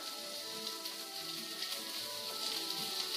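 Garlic sautéing in a pan gives a steady, bright sizzle like light rain. It holds even and unbroken throughout, with no voices over it.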